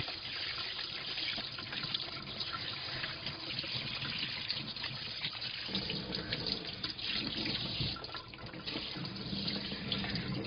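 A kitchen tap runs steadily while sashimi-grade mackerel from Busan is rinsed, making a continuous close splashing rush of water with small changes in the flow.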